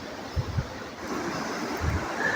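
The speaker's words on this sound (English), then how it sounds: "this is the River Well, and there is the weir just there. You'll probably be able to hear that" Water rushes over a weir on the River Well in a country park, a steady broadband wash outdoors with wind buffeting the microphone and a few low thumps near the start and end.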